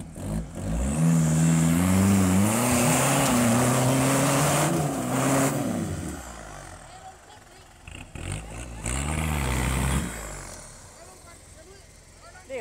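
A heavy diesel off-road truck engine revs hard and labours with a deep, wavering drone while winching at an off-road trophy event, easing off and then surging again, with people talking faintly.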